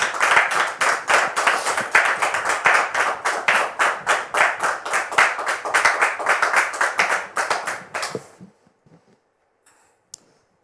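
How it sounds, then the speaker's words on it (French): A studio audience on a French-language talk-show set claps in steady rhythmic unison for about eight seconds to welcome a guest, then falls abruptly silent, with one faint click near the end. "Sous vos applaudissements."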